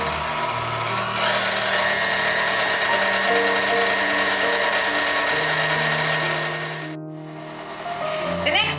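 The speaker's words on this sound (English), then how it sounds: "gently blend these ingredients together for a nice soft consistency" An electric mixer runs steadily, blending cookie dough with egg yolks and soda for Greek wedding cookies (kourabiedes), a loud continuous motor whir that dips briefly near the end before resuming.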